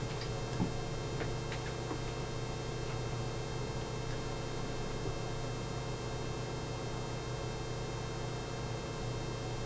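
An embroidery machine stitches an in-the-hoop notebook cover with a zip pouch, giving a steady mechanical hum with faint, rapid ticking that runs without a break and without any talk.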